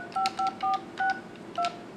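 A Cisco 7940 IP phone plays dialing tones as a number is keyed in: five short two-tone beeps in an uneven rhythm, close and clear over a faint background hiss.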